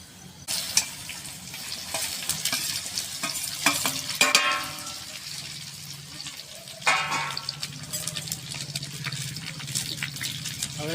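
Cumin, sesame seeds and patra leaf rolls fry and sizzle steadily in a pan, with a few sharp stirring scrapes and clinks breaking through the close, continuous crackle; no one speaks.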